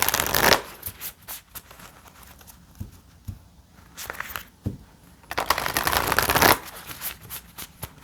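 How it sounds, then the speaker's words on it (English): Tarot cards being shuffled in bursts of crisp riffling and flapping, with quieter handling and soft taps between, close up and with no talking. "I wish I could just shuffle the cards like this"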